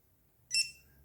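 A water leak sensor, its cable placed in water, gives a single short, shrill electronic alarm beep over a quiet room, then stops.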